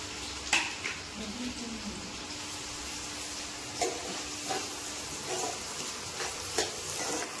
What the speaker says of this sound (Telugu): ఆనియన్ బాగా ఫ్రై అయిపోయింది, చూసారు కదా.